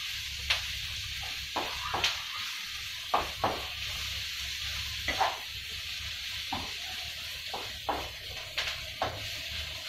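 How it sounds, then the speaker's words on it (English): Diced onions fry in a pan with a steady sizzle, while a utensil repeatedly scrapes and knocks against the pan at irregular intervals, fairly close. "Keep on stirring them so that they will not be burnt."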